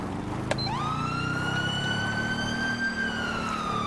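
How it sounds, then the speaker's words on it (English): A police siren wails in a GTA 5 LSPDFR patrol, starting with a short yelp then settling into a long rising and falling tone, loud and close over a low engine rumble. "He automatically turns his siren on whenever I put my lights on."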